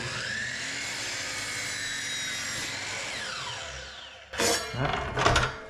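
A miter saw cuts through a piece of trim at a 45-degree angle, a whining blade run that winds down, followed by a few short knocks and handling clatter at the end.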